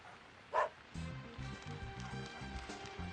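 One short bark rings out, followed by a low rhythmic background of music or thumping that continues quietly.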